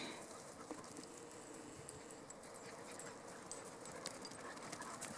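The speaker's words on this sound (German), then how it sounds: "Glücklicher Hund." A dog moves about close by, with soft panting and scuffling paws over steady background noise; no barking stands out.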